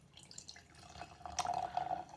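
Imperial Stout beer is poured into a glass, a soft close trickle and gurgle that builds into a steadier liquid flow toward the end, quiet and without talk.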